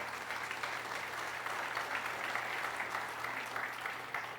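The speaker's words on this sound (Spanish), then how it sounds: "denle un aplauso a esa palabra" A church congregation at a Christian sermon applauds with a steady wash of clapping, moderately faint and continuous, over a low steady hum.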